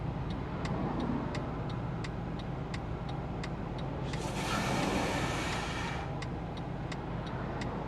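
Backed-up car traffic heard from inside a vehicle at a light, a steady engine and road rumble with a sustained louder passing swell midway and a faint regular ticking throughout.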